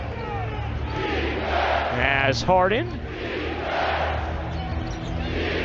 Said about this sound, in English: Crowd will stand here till the first Nuggets bucket